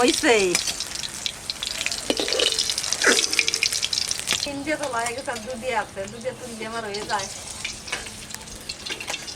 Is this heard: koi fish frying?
yes